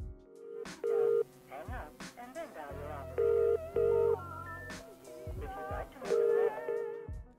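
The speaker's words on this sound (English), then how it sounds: "The video starts with a phone dial being played with some eerie music softly playing in the background." Telephone keypad tones beep in short bursts over a low, eerie music bed that plays softly underneath, opening a horror story video about the Mandela Catalogue.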